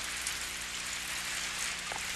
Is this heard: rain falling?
yes